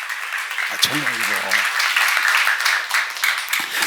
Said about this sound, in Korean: 박수 좀 하세요.